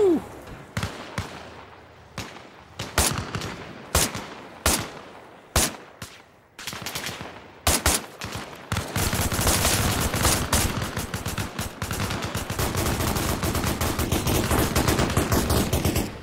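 Gunfire in the military video game Arma Reforger during an island base defense against a beach assault: scattered sharp shots at first, then dense continuous automatic fire and heavy volleys, loud and close throughout.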